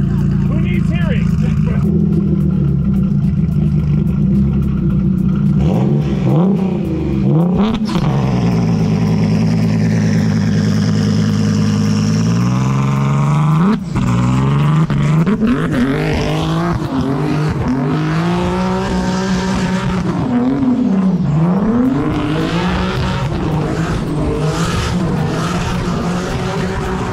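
An 800-horsepower car does a loud burnout, the engine screaming and rising in repeated revs with tires squealing and skidding, while people's voices and shouts are heard over the roar.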